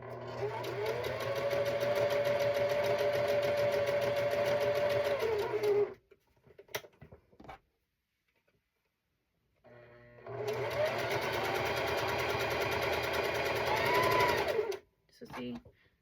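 A sewing machine chain stitching quilt pieces runs in two sustained, rapid whirring bursts separated by a few seconds of near silence, the motor humming steadily and close.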